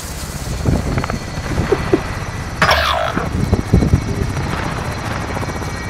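Steady chopping thrum of a hostile helicopter in Call of Duty: Modern Warfare dominates throughout, with scattered thumps and effects layered over it.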